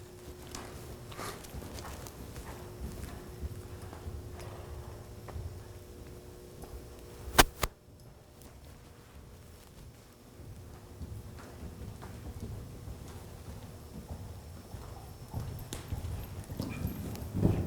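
Horses walk at a riding clinic, hooves clip-clopping in a steady, moderately near rhythm, with a brief sharp knock midway and no talk.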